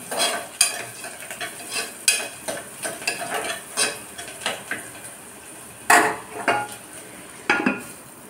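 Potatoes for a potato curry sizzle softly in a pan while a spoon stirs and scrapes against the metal, with sharp clinks at irregular intervals over the low frying hiss. No one speaks.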